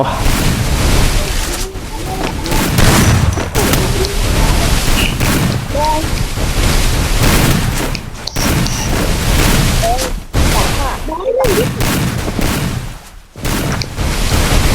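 Dense, loud gunfire from the Free Fire battle-royale game, bursts and booming shots packed almost continuously with brief gaps, a shouting voice underneath.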